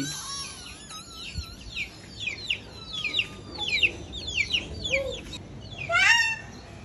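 Tiger breed chickens on a farm cluck and call in rapid overlapping bursts, with a louder squawk near the end over low background hiss.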